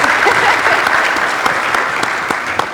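A room of attendees at a community annual meeting applauds a panel member's introduction, a dense, steady wash of many hands clapping throughout, fairly close and loud, with no speech over it.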